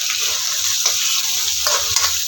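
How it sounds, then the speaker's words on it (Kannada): Onions fry in oil in a pan for a leafy greens palya, making a loud continuous sizzle with scattered spatula scrapes and taps throughout, no one speaking. "ಈರುಳ್ಳಿ ನೀಟಾಗಿ ಫ್ರೈ ಆಗಿದೆ"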